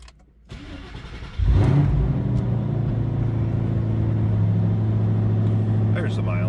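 A 2007 Ford Mustang Shelby GT500 cranks and catches, then settles into a deep, steady rumbling idle close by, with a voice talking over it during the start.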